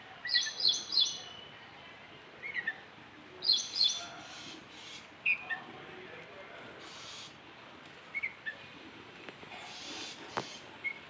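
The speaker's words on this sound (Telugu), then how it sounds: "చాలా పిట్టలు వస్తున్నాయి" Small birds chirping in short, high bursts scattered across the clip, some close and some farther off, over a faint outdoor background.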